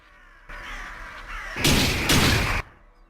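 Loud crow caws in the steampunk VR shooter SteamHammerVR, a harsh burst of overlapping calls with no one talking, the flock close and noisy for about two seconds before cutting off.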